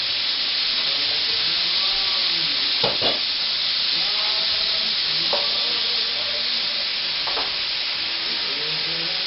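Cherry pepper liquid hitting a hot pan to deglaze it for an arrabbiata sauce, a loud continuous close sizzle and steamy hiss with a few utensil scrapes as it is stirred; no voices.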